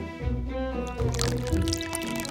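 Blue craft paint pours thickly over a doll, a close, wet glugging and squishing flow with soft drips throughout.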